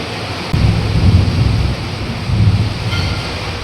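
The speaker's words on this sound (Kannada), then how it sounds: "ಇಷ್ಟೊಂದು ಮಳೆ ನೋಡಿ" Dense, continuous roar of heavy first monsoon rain in Maharashtra, loud and close, with a few surges in intensity and no voices.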